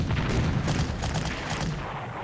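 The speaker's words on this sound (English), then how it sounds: "he's going to shoot up my guys now from the other end of Greece" Artillery shelling in the Panzer Corps strategy game, set in the Balkans campaign in Greece: a dense, continuous roll of heavy booms and rumbling blasts, loud and unbroken, with no talking.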